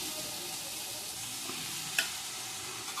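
Vegetable curry of cluster beans in yogurt being stirred and fried in a pan, a steady soft sizzle with a faint clink of the spoon near the middle.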